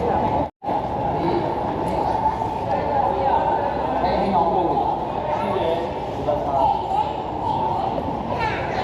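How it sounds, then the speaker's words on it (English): Underground airport tram at Bangkok Suvarnabhumi carrying passengers beneath the runways and taxiways to a new satellite terminal, a steady rumbling ride noise with muffled chatter underneath throughout, briefly cutting out near the start. "this underground tram takes us all the way under the runways, the taxiways, over to the brand new terminal"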